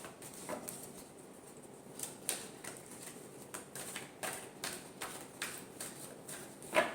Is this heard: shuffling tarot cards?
yes